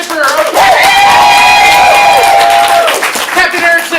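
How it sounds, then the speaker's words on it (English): A comedy show audience claps and cheers loudly, with a high whoop and shouting carried over a steady wash of applause for a few seconds. "Level 3 applause for Captain Eric Zipper."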